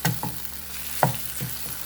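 Minced beef and courgette sauté in a hot pan with a steady close sizzle, punctuated by several scraping stirs of a utensil against the pan.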